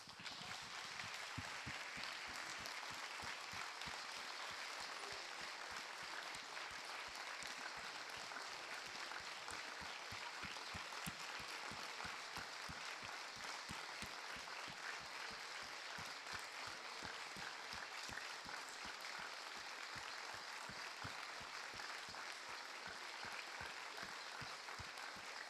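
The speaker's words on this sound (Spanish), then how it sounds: "Les quiero pedir un minuto de aplauso por todas estas personas que han sufrido por esta violencia." A long, sustained round of audience applause held as a minute of clapping for victims of violence, steady and even from start to finish, heard quietly at a distance with no talk over it.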